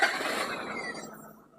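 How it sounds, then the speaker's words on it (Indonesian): A car engine cranks and catches during a test start after a relay check on the vehicle, a brief, fairly quiet burst of engine noise that fades out within under two seconds. "Kita hidupkan mesinnya untuk mengecek."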